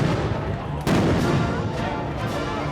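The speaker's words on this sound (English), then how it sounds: "So they're throwing concussion grenades to get people out of here." Concussion grenades going off during a street protest, a sudden sharp blast cutting through loud crowd noise followed by a couple of fainter distant bangs, with dense chaotic street din underneath.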